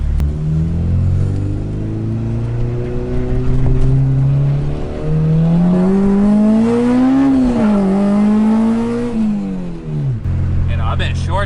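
A car fitted with a new Skunk2 Megapower RR exhaust drives and accelerates, the exhaust droning and rising in pitch through the revs, dropping at a shift and climbing again, loud and close throughout.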